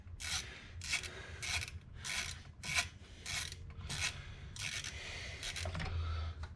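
Bolts on the thermostat housing of a 2011 Chevy Cruze are tightened evenly with a ratchet, producing repeated bursts of close, rasping clicks separated by short pauses.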